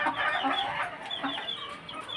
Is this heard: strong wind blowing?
no